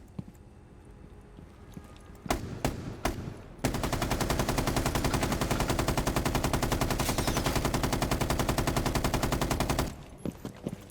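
Automatic gunfire from a first-person shooter video game: a few separate shots, then one long, loud, rapid burst of machine gun fire that rattles on steadily for about six seconds before stopping.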